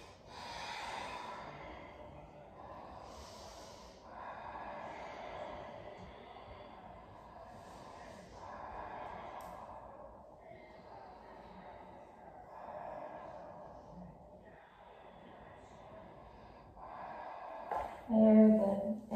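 Slow deep breaths during a yoga forward bend in a vinyasa session, heard as a series of soft, airy exhales and inhales about every four seconds, close and quiet with a faint low background hum.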